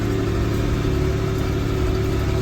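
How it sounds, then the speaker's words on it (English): Vehicle engine working in a lower gear to climb a hill in a field, a steady mid-pitched drone with a constant hum and no speech. "I've got to drop a gear because I can't climb this hill in top gear."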